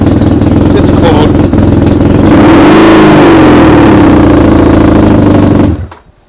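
A newly finished motorcycle build runs cold up close, its engine chugging loudly, then revving up in the middle before the sound cuts off abruptly at the end.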